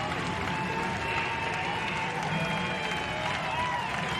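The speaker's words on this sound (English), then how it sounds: "Big cheer" Spectators cheer and applaud at the Henley regatta as the US Armed Forces crew crosses the finish in the King's Cup rowing race, a broad, sustained crowd roar with a commentator's voice faintly underneath.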